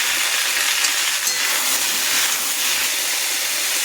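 Prawns hit a pan of hot oil and fry for a Bengali taro, ridge gourd and potato curry, giving a steady, loud broadband sizzle and hiss that stays even throughout with no talk.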